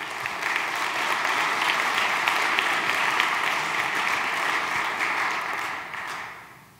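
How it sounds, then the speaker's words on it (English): Sustained audience applause at a startup demo day event, a full, dense wash of clapping held steadily for several seconds before fading out at the end. "I think we should give Mike another round of applause"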